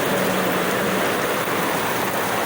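Steady rain falling on a rainy morning, a dense, constant hiss of drops on surfaces, loud and close, with no voices.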